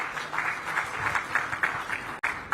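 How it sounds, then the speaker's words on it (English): An audience at the Times Network India Health Awards 2024 gives the sponsors a steady round of applause, a dense, even patter of many hands held at moderate level for the whole stretch. "Can we please have a big round of applause for them once again?"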